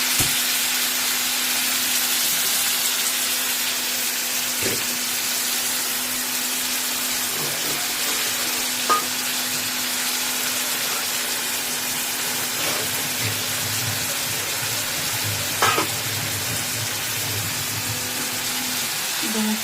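Figs frying in hot oil for a Bengali spiced fig dish, a steady broadband sizzle running throughout with occasional stirring clicks and scrapes, close and continuous with no talking.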